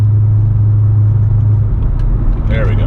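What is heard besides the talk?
Corvette exhaust switched to quiet mode by remote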